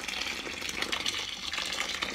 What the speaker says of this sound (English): I'm going to add to that a couple of litres of boiling water